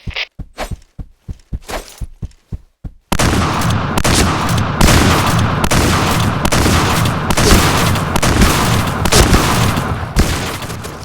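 Shotgun fire in the Point Blank online shooter: a rapid series of sharp, close blasts, then a dense, loud stretch of continuous gunfire and explosions.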